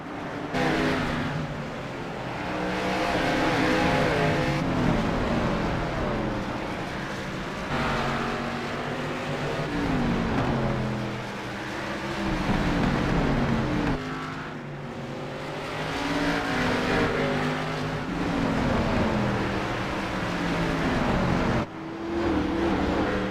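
Video-game race cars in the BRL Grand National Series at the Las Vegas Bullring, engines roaring continuously as the pack laps the short oval, with repeated swells as cars accelerate and pass, with no talk over them.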